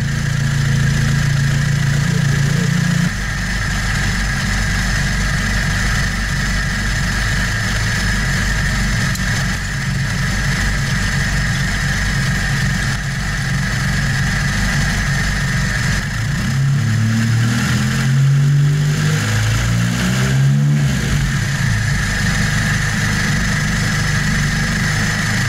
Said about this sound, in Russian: Заводим машину, пожалуйста.